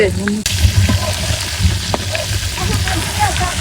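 Fish frying in oil on a clay stove crackles with a busy, close sizzle and a few sharper pops, while faint voices murmur in the background.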